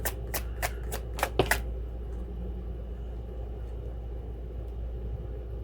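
Tarot cards riffle-shuffled in a burst of about six sharp, crisp flutters over roughly a second and a half, close by, then steady quiet room hum.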